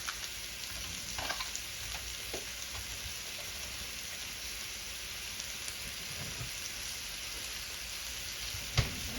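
Squid grills on a hot surface with a continuous, even sizzle like light rain. Faint pops and crackles run throughout, and one sharper snap sounds near the end.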